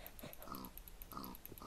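A pig in the video game Minecraft gives a few short, quiet oinking grunts in a loose rhythm over low, steady game background sound.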